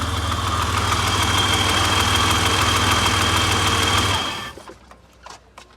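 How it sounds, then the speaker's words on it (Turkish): A BMW 730iL engine, started on the first try and leaking fuel from a punctured hose, idles loudly with a steady, even drone for about four seconds, then cuts off, leaving only faint scattered clatter. "Arkadaşlar gördüğünüz aracımız tek marş çalıştı"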